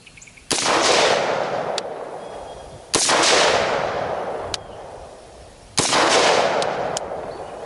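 Three loud rifle shots fired at a target, spaced about two and a half seconds apart, each a sharp crack followed by a long decaying roar of echo from an outdoor range, with no talking.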